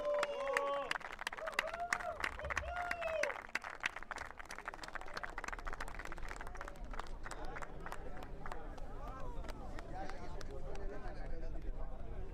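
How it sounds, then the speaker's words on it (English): Audience applause and cheering for the runners-up at a tennis-ball cricket league final's awards, a sustained spread of close clapping from a small outdoor crowd with voices mixed in. "Everybody get together, give them a round of applause."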